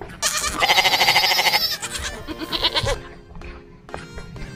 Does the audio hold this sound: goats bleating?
yes